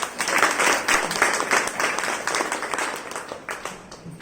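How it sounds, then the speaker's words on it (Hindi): An audience at an indoor gathering claps together, a moderately loud patter of many hands with a few stronger surges, continuing steadily before thinning slightly near the end. "सब ताली बजाओ एक साथ।"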